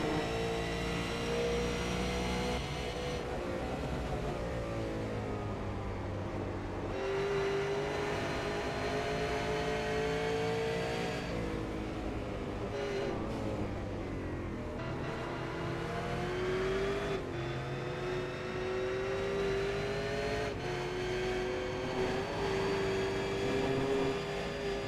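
From on board a V8 Supercar lapping Road Atlanta, the engine screams close and loud, its pitch climbing through each gear and dropping at repeated shifts and braking zones throughout the lap.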